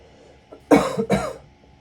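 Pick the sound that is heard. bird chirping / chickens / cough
cough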